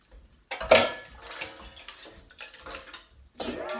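Liquid drains from a can of lychees, splashing and pouring in close, uneven bursts with short pauses and no talk.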